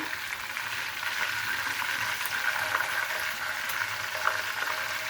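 Shashlik skewered pieces frying in a pan after being flipped, giving a loud, dense, continuous sizzle that stays even throughout with a few tiny crackles and no voices.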